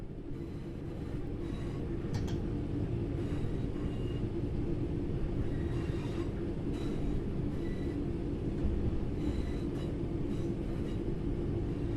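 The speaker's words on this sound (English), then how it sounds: "apply a small amount of braking force to gently bring this train to a stop." A passenger train in Train Sim World 4 rumbles steadily as it is gently braked to a stop, with a continuous low mechanical drone and faint higher creaks and whines over it.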